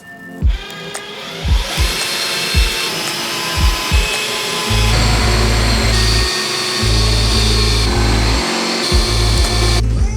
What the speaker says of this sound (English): now I'm just going to work on getting the side ones drilled